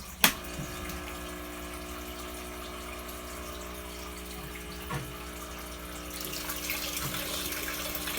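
An air pump with all four ports joined drives water through a homemade 3-gallon bucket air-lift pump, giving a steady close hum with continuous bubbling and gurgling water and a couple of sharp clicks.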